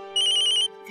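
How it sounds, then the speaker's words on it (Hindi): A phone rings in a Hindi TV drama scene: a bright electronic ringtone trills rapidly for about half a second over a steady hum, then cuts off. "अरे अक्षरा का फोन है"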